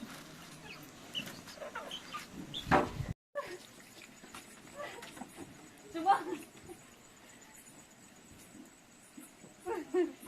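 Farm chickens at a Karen village pig and poultry yard make scattered clucks at moderate distance, with someone talking over them and outdoor background noise.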